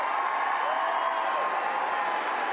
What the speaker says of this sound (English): listen to how that crowd is being worked by the stadium announcer